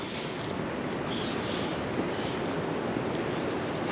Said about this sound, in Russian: Шум от моря идет такой достаточно сильный.